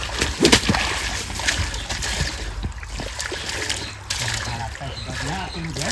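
Running water splashes and sloshes in uneven bursts, with a louder splatter near the start, while people talk loudly over it.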